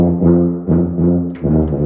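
A tuba plays a short phrase of several low, sustained brass notes with brief breaks between them, close and fairly loud, with no talking.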